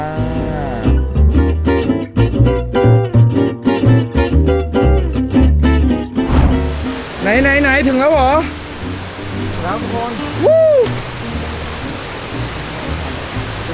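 After several seconds of voices and busy sound, the steady, broad roar of the Pe Toh Lo Su waterfall in a mountain forest takes over and continues evenly to the end.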